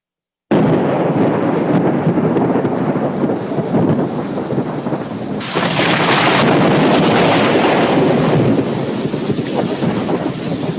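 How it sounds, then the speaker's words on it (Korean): Heavy rumbling thunder with storm noise in a film of Mount Sinai, a loud, sustained roar that swells midway and continues without pause, with no speech. "번개."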